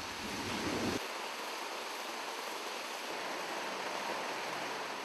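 Water curtain from a fountain, sliding over a door-sized bronze arch and pouring into a sunken basin, makes a steady, dense broadband rush that stays constant throughout, with a slightly louder burst at the very start.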